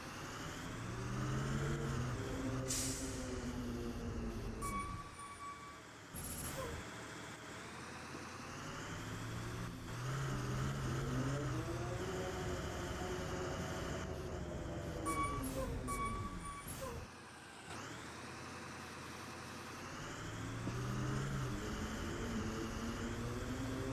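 A school bus from a video game idles, then revs and accelerates, its mid-pitched engine rising and falling in several long swells broken by short pauses and sharp squeaky brake hits.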